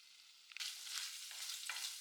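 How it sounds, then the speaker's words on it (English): Faint, soft sizzling of sliced one-inch bacon strips frying in a pan over low heat, a hissing crackle that rises after half a second and continues steadily. "In a cold pan on low heat, I'm starting with a little over a cup of sliced bacon strips."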